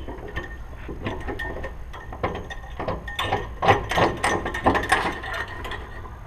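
Ratchet wrench tightening threaded four-bar bolts on a 1962-1967 Chevrolet Nova, giving rapid clicking ratchet bursts with some clanks, close and fairly loud throughout.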